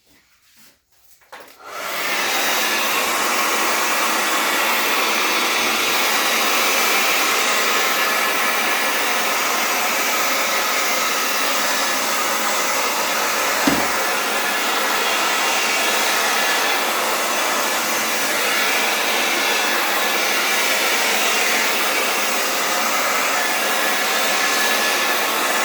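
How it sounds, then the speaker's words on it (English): After a brief quiet start, a hair dryer blows steadily and loudly for the rest of the clip, drying an acrylic pour painting done with stamp, swipe and silicone techniques, with one faint tap partway through. "hair dryer here for a second."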